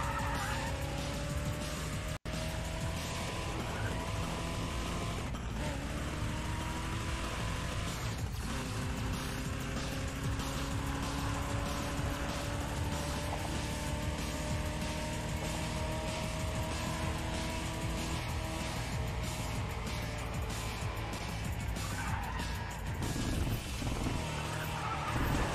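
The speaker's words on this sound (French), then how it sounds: "Elle est puissante, elle a 450 chevaux, elle dit. C'est pas mal quoi pour une voiture." A heavy, powerful 450-horsepower car races in Need for Speed ProStreet on PS3, its engine droning steadily with rising and falling pitch, tires skidding and squealing, and a few sharp knocks, all continuous and loud.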